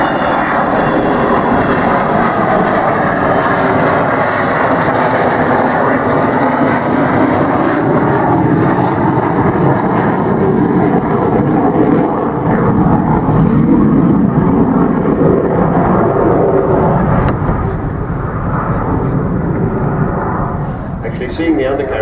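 An Avro Vulcan XH558 bomber passes overhead at an airshow with its landing gear down. Its engines give a loud, continuous roar that slowly shifts in pitch over the whole stretch.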